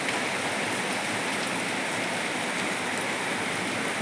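Heavy rain falls at five in the early morning, a dense, steady hiss and patter that stays loud and unbroken throughout, with no voices.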